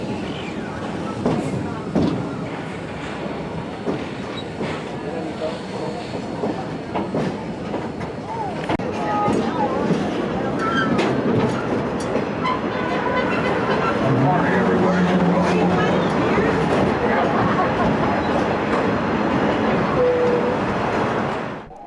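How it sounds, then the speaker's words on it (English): Steam locomotive train rolling through a canyon, a continuous rumbling rush of wheels and rail clatter heard from on board, with occasional voices in the background. "This curve gave us a great view of that steam locomotive taking us back into the canyon."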